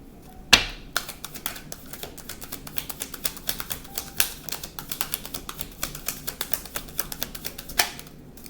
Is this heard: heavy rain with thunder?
no